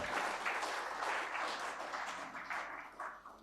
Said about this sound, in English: We all should give a clap to him for such wonderful work, sir.